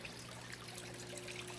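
Water trickles steadily in a waterfall fish tank, a soft continuous splashing flow with a low hum from the aquarium equipment underneath, fairly quiet and unchanging throughout.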